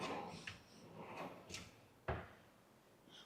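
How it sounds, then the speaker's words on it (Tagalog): A kitchen drawer in a modern home slides and bumps shut in a few soft, close movements, ending with one sharper knock. "Drawer."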